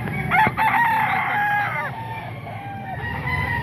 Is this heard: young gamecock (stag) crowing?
yes